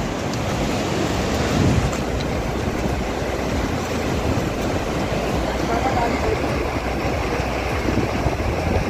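A waterfall on the Amarnath Yatra mountain trek: a steady, loud, broadband roar of rushing water that stays constant throughout.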